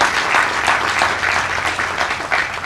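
Audience at a groundbreaking ceremony for a Kaiser Permanente headquarters in Prince George's County claps steadily in a loud, sustained round of applause.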